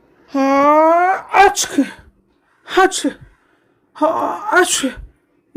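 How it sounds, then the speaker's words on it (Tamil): A person sneezes several times in a row, with loud, close bursts separated by short pauses. A drawn-out moaning intake of breath comes before the first sneeze. "என்னடா இது, தும்மல் வந்துக்கிட்டே இருக்குது"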